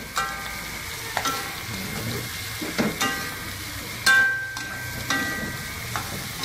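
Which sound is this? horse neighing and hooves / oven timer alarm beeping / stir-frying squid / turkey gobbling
stir-frying squid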